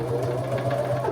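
A sewing machine stitches through denim while taking in a pair of jeans, its motor humming in a steady, continuous run at close range with no pauses and no talking.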